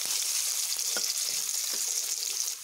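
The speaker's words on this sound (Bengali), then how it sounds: "আলুগুলোকে একটু বেশ লাল লাল করে ভেজে নিচ্ছি।" Potato pieces fry in hot oil in a pan until reddish, giving a steady, close sizzle with a few faint stirring taps and no talking.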